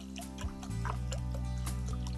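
Salted soaking water is poured off a bowl of eggplants outdoors at a dacha, giving faint trickles and scattered drips over a steady low hum.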